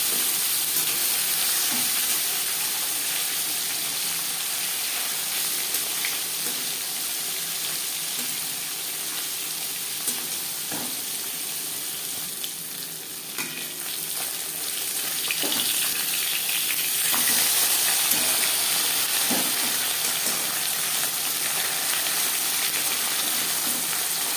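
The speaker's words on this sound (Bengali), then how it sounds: "চার চামচ রিফাইন্ড অয়েল গরম করে নিয়েছি দিয়ে দেবো লবণ হলুদ মেখে রাখা মাছ" Sarputi fish coated in salt and turmeric fries in four spoons of hot refined oil, giving a continuous close sizzle and crackle that holds steady throughout.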